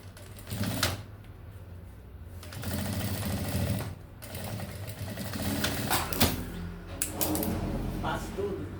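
Sewing machine stitching custom personalized items, running in steady stretches with a mechanical whir and several brief pauses, while a person talks over it.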